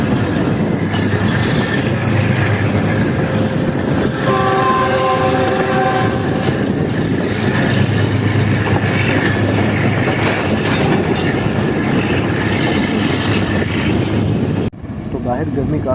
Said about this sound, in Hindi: ट्रेन ट्रैक चेंज करके मेन लाइन पर आ रही है।